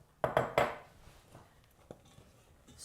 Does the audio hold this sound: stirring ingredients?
yes